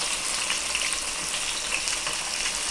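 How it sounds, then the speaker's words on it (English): Meat browning for a pot roast sizzles and fries in a hot pan, a dense, steady hiss heard close and alone. "just after browning the meat a little bit"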